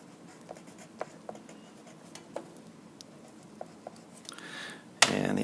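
A pencil writes labels on a side-view sketch of a frame, a faint close scratching with small taps and pauses, then a louder rustle at the very end.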